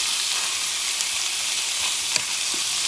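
Corned beef sizzles steadily with garlic in a hot pan, a dense close frying hiss with a faint scrape or two of the spoon, and no one speaking.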